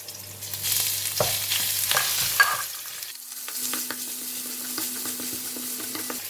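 Garlic and ginger paste hits hot oil with dry spices, giving a dense hissing sizzle that eases after a few seconds, while a spoon stirs and taps through the mixture up close.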